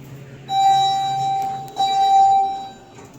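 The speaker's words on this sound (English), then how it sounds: "Loud chime." Two loud electronic chime tones from a hydraulic elevator at a DoubleTree by Hilton in Gainesville, Florida, ring out in quick succession, each a sustained bright note over a low background hum.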